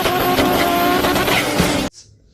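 Car doing a burnout, a loud sustained engine roar with squealing tires close by for about two seconds, then cutting off abruptly into near silence.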